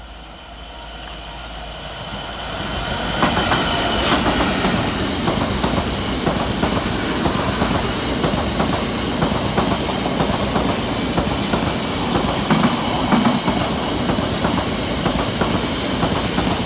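A heavy Class 66 diesel freight locomotive approaches and passes while powering uphill, its engine growling under load as wagons rumble and clatter by loudly and continuously.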